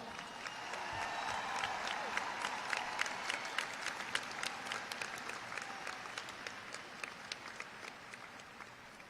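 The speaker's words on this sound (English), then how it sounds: "Please give them a round of applause." A crowd at the J.B. Alexander High School class of 2023 graduation ceremony gives a sustained round of applause, dense clapping with scattered louder claps, steady throughout and fairly distant.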